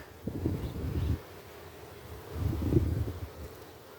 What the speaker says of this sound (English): we've got millions of bees in here